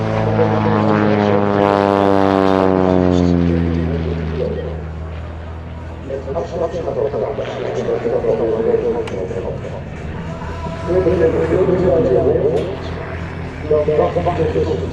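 An Aviat Pitts Special S-2B aerobatic biplane, registration PH-PEP, flying a display at an Ede airshow: the propeller engine roars close by with a falling pitch sweep, then settles into a rough, throbbing drone, with commentary voiced over it.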